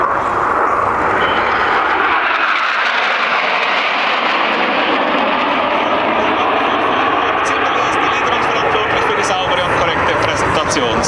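Patrouille Suisse jet formation passing at an air show at high speed in tight formation, a loud rising and falling roar sweeping by, with an announcer speaking throughout.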